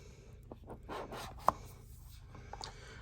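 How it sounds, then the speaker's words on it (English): Opening the box of a SpeedyBee F7 mini stack flight controller and 4-in-1 ESC, soft close cardboard rubbing and sliding with a single sharp tap midway, quiet throughout. "Let's open up the box and see what we got."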